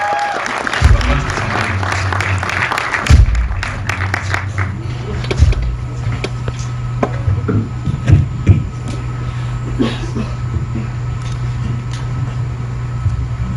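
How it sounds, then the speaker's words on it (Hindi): An audience in a hall gives loud applause welcoming a film's producer on stage, sustained clapping with a few sharp peaks, and someone speaks over it. "वीर कपूर जी के लिए जोरदार तालियां।"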